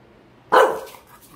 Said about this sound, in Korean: 아, 살살 짖어. 옆집 자잖아.